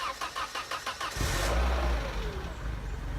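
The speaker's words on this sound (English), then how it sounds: "Let's see if it starts." A Peugeot 205 GTI track car, left standing for about two months, cranks with a rhythmic starter whir, then catches and fires into a loud rev before settling into a rough, close idle.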